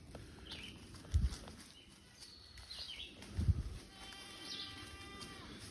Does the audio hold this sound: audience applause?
no